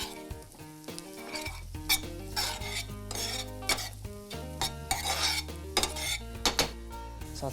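A spoon stirs and clanks against a pan as Kashmiri chili powder and paprika fry, with close metallic scrapes and knocks over a busy sizzle and a loud low rumble.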